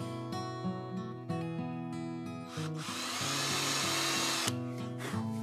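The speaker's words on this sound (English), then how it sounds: "I'm just going to do one small little pilot hole, and this is going to keep from scarring anything up right there." Short bursts of a power drill boring a small pilot hole, spinning up and stopping several times, with one longer grinding run in the middle, fairly quiet over a steady background hum.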